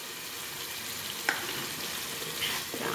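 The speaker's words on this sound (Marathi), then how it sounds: "पनीरला हे आपण असं फ्राय करून घेणार आहे." Paneer frying in masala gravy, giving a soft, even sizzle and bubbling hiss with a single faint clink partway through, close but fairly quiet, with no talking.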